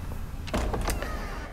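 Gacha summon door-opening effect from the mobile game Another Eden: a few quick whooshing, thudding bursts over a steady layer of game background sound, with no voices.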